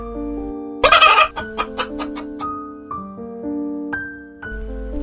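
A hen clucks in a quick burst of short, close calls, followed by a few more scattered clucks over sustained background music.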